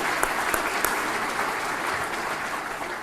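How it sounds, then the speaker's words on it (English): A conference audience at the White House Tribal Nations Conference gives a round of applause, steady dense clapping from many hands throughout the short stretch. "Let's give Raina and the White House folks a round of applause"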